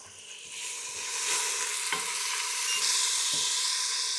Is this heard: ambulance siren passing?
no